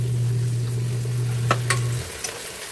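Marinated beef sirloin and spare ribs sizzling in a pan for caldereta, a steady close frying hiss with a few stirring knocks, a low hum stopping partway.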